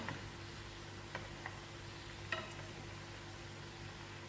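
Bride's finger pastries frying gently over medium heat in a pan, a faint, steady low sizzle with a few soft ticks and pops, close but quiet, with no talk.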